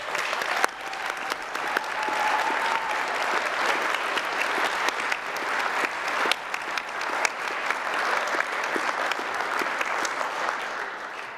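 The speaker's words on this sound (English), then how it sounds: "let's give them a resounding, joy-filled round of applause" A university graduation audience gives a long, steady round of applause, dense massed clapping filling the hall without a break, with a few sharper individual claps standing out and faint voices mixed in.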